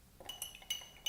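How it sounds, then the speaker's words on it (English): Sugar tipped into a jar of petrol makes a few quick, faint glassy clinks and ticks, three or four bright taps in about a second. "And add a bit of sugar to the petrol."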